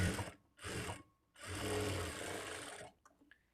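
A sewing machine stitches the lining of a blouse in three bursts, two short runs then a longer steady whir, each stopping abruptly, close and fairly quiet with no talking.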